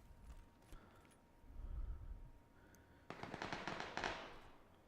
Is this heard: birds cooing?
no